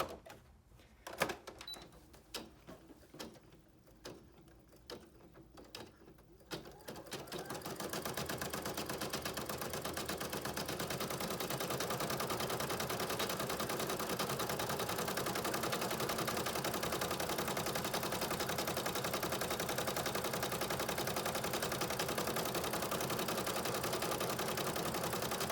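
An embroidery machine stitches a buttonhole on in-the-hoop mittens, a fast, steady mechanical rattle that starts after a few seconds of sparse clicks and then runs loud and continuous to the end.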